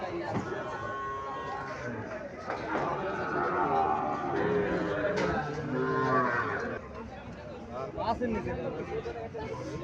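A cow moos in long, low calls amid the chatter of a busy crowd, with people talking nearby throughout.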